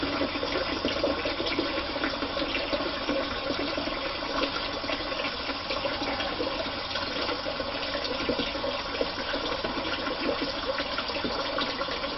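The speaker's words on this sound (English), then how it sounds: "Let's do some more water there." Water runs steadily from a tap onto a thick puck of shaving soap, a constant close, loud splashing rush that continues unbroken throughout with no talking.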